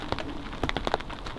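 Rain patters steadily on a tarp over a wet camp in Britain, with scattered drips and taps landing close by and no voices.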